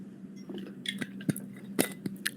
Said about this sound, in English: That is the sound of me putting the lid back on the vodka.